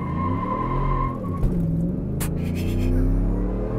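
A supercharged V8 Ford F-150 with the FP700 package launching without launch control, its engine roaring and revving up loudly while the tires squeal, close by with no talk.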